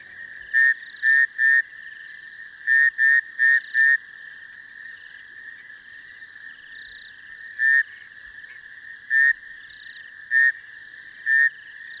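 Male rain frogs calling at dusk, short shrill chirping croaks given singly and in quick clusters of two or three, clear and close against a faint background hum of insects.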